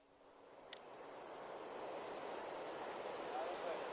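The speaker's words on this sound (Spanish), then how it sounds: "Escuchad el sonido de este océano. Esas olas." Ocean waves wash and surge in a broad, steady hiss of surf that swells slowly louder over a few seconds, with a brief faint click near the start and no voices.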